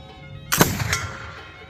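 A flintlock rifle fired outdoors gives a single sharp, loud gunshot. A short crackling tail follows, then a quick fade, with no talking.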